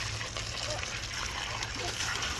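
Water splashes and gushes steadily outdoors while freshly harvested potatoes are rinsed. The wash is a continuous broad rush at low level, with voices nearby.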